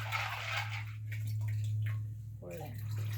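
Ceramic filter chips from a fish tank are rinsed in water, giving swishing, trickling splashes that come in uneven bursts, with a clattery gurgle near the end over a steady low hum.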